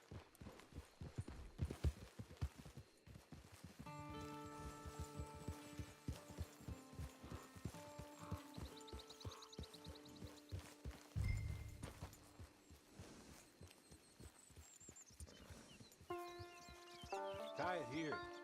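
Horse hooves clip-clop in a steady walking rhythm while riding toward a camp in Red Dead Online, sitting under game music and spoken dialogue.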